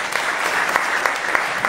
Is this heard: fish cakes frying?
no